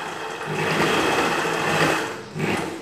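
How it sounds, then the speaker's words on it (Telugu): A sewing machine stitches a princess cut blouse in a continuous, loud, close whir that dips briefly near the end and then resumes. "బ్లౌజ్ పీస్ని ఇలా జరిపి ఇప్పుడు కుట్టుకోవడం స్టార్ట్ చేయాలి"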